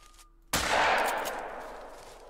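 A single blast from a 12 gauge Cacciatore pump shotgun in the hunting game Call of the Wild, a sudden loud boom after near silence, followed by a long rolling echo that slowly fades.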